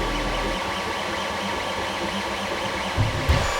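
A Creality Ender 3 3D printer at work gives a steady, even mechanical whir and hum that holds throughout, with a couple of brief clunks near the end.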